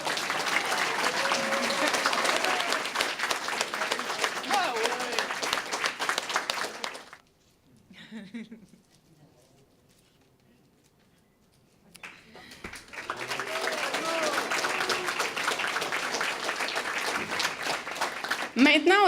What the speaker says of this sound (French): Une grande main d'applaudissements pour Mme Lise Hamelin.